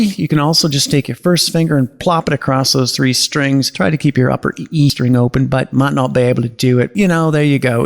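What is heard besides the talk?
No distinct noise like a dog, phone or traffic.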